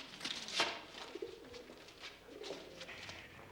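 A pigeon coos in a 1980s period television drama, soft throaty rolling calls repeated a few times at close range over light background rustle, with no one speaking.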